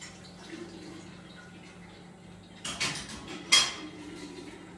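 Two plates being washed in a home kitchen: a faint running tap under low household hum, then two sharp clinks of crockery near the end.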